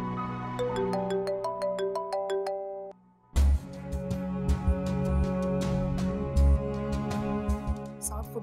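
A phone ringtone plays as a bright repeating chime melody, then switches to a fuller, louder musical ring with bass beats, steady and close.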